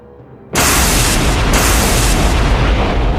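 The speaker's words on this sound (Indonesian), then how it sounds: "Suara ledakan besar terjadi saat terkena lengan Tiren" A sudden, massive explosion bursts in after a half-second of quiet, then a loud roaring blast rumble sustains to the end.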